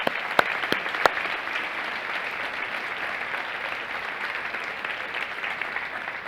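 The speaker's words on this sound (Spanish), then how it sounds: "Vamos a darles un aplauso a los que vienen por primera vez." An audience at a talk on the Beatitudes gives steady applause, a dense wash of clapping that holds evenly for several seconds, with a few sharp nearby claps at the start.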